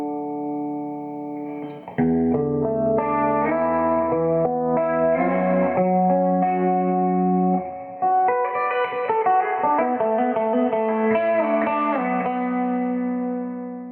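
Electric guitar chords and picked notes through an amp, with lush reverb and slight chorus shimmer, played steadily and fairly loud with no voices.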